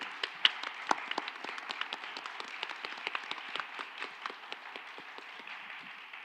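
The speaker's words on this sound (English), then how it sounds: "If we could please give a round of applause to our wonderful panelists today." A conference audience applauds panelists at the end of a youth global-change session, a steady patter of many hands with sharp individual claps, moderately quiet and without speech.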